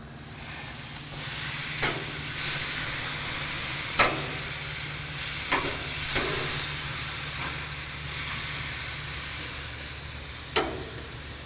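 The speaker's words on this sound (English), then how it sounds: "We're just gonna throw this on the grill." Marinated skirt steak on a grill gives a steady, broad sizzling hiss throughout, close and even, with a few sharp pops and crackles scattered through it and no talking.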